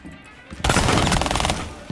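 A sustained burst of automatic rifle fire in Rainbow Six Siege, rapid loud shots running for over a second after a quieter lead-in, close and dense.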